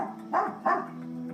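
Lola, an aggressive dog, gives two quick, faint barks in close succession, heard at a distance and otherwise quiet.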